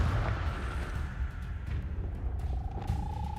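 Confringo explosive spell cast in Hogwarts Legacy: a rumbling blast under game ambience, with a faint sustained tone rising near the end and no voices.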